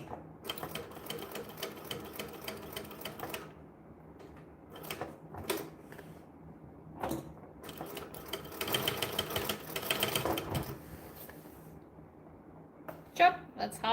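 A sewing machine stitching a bag near its hardware, running in several short and long bursts of rapid mechanical chatter separated by pauses, with a person talking in between.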